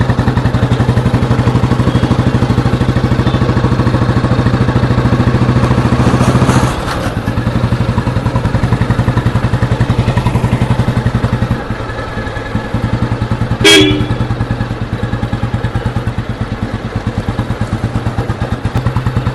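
A restored 1992 motorcycle cruises in top gear, its engine a loud, steady, continuous drone with rapid firing pulses and wind rush, dipping briefly and then settling back.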